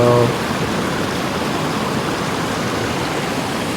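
Rain falls on a camera outdoors during a jade rockhounding field trip in Washington State, a steady, close, even hiss of drops lasting throughout with no other clear sounds.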